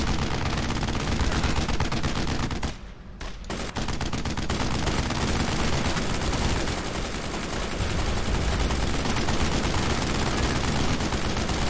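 Sustained machine gun fire from the Brothers in Arms: Road to Hill 30 game roars loud and unbroken, with one brief gap before the rapid shots resume and carry on to the end.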